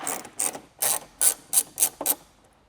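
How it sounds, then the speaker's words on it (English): A ratchet clicks in seven quick separate bursts as 10mm bolts are backed out of the bumper on a Toyota 4Runner (2014-2024), close and fairly quiet with short pauses between the runs of clicking. "we're gonna go ahead and remove both of these 10mm bolts"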